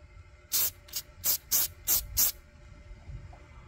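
Six short, sharp bursts of silver spray paint hiss from an aerosol can onto car number plate bolts in a garage, evenly spaced and close, with quiet between.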